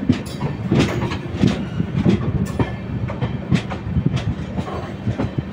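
Howrah Balurghat Express rolling between Malda Town and Balurghat, heard from on board: rhythmic clickety-clack of wheels over rail joints repeating steadily over a continuous rumbling carriage roar.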